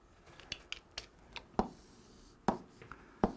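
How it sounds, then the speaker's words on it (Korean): Marker strokes on a board during a math lesson, a scattered run of short taps and squeaks at a quiet, close distance, with no speech. "차근차근 이제 여기다 써볼게요."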